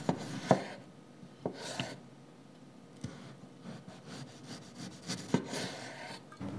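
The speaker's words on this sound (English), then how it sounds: "You can use a knife." A knife chops through potatoes for chips on a cutting board, giving a few irregular thuds between softer scraping and rubbing strokes, close and fairly quiet.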